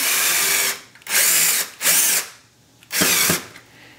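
Power drill driving screws back into an electric oven range during a repair, three loud close bursts of whirring motor separated by short pauses.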